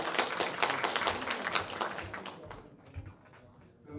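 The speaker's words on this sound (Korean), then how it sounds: "큰 박수로 맞이해 주시기 바랍니다." An audience at a city citizens' regional meeting in Hwaseong claps to welcome the mayor, a brisk, close burst of many hands that fades out after about two and a half seconds, leaving a few stray claps.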